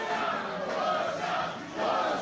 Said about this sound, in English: This place gets loud, Munson. I can't hear myself think.